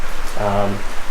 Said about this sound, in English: please excuse the rain